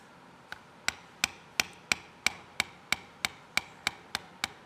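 Small metal bevel tool struck with a mallet while tooling a leather knife sheath, a dozen crisp evenly spaced taps, close and steady.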